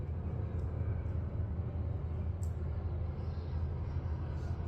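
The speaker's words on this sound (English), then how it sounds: "It's another airplane." Steady low rumble of a fixed-wing airplane passing overhead outdoors, a broad continuous drone that stays loud and even throughout with no speech.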